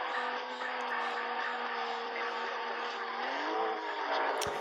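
Racing cars in the Need for Speed video game: a steady, loud engine drone with a pitch that rises and falls, tire noise beneath it, and a sharp click near the end.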